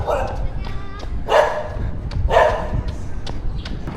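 Dogs bark in a few sharp, separate outbursts at middle distance outdoors on a morning run, with soft thumps and rustling between the barks.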